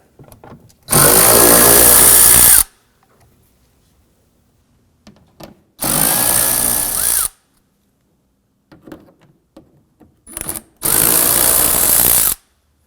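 A power tool backs out 5.5 mm screws from the fender liner of a 2015-2020 Ford F-150 in three loud, close bursts of whirring about a second and a half each, separated by quiet pauses with small handling clicks.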